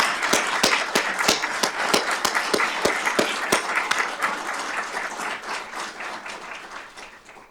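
A crowd at a fire and rescue awards ceremony applauds for honoured firefighters, with sharp, close individual claps standing out over the general clapping. The applause slowly fades toward the end.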